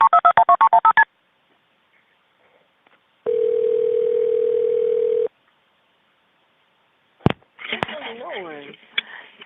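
Touch-tone keypad beeps open a recorded 911 emergency call: about ten rapid DTMF tones, then a long steady dial tone, a click, and a faint line voice with ringback-like tones at the end.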